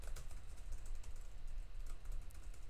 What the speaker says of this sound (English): As well as tapping on the keyboard